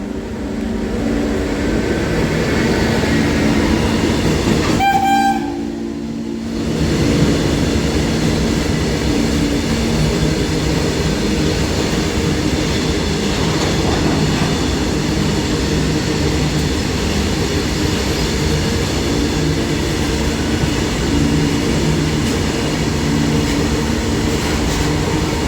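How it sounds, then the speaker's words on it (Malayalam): A goods freight train hauled by a WAG 9 electric locomotive rumbles past, loud and continuous with rhythmic wagon clatter and a brief horn-like tone early on, no voices. "ചരക്ക് വണ്ടി"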